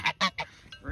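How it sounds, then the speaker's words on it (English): Geese give three quick, close, loud honks in a row, followed by a fainter honk, all in under a second. "Even the geese won't mess with Ringo."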